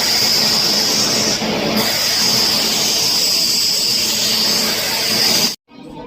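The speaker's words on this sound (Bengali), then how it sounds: "এখন আমরা সাঁতরাগাছি স্টেশনে আছি" Steady broadband rumble and hiss of a train at Santragachi railway station, loud and continuous for about five and a half seconds before cutting off abruptly.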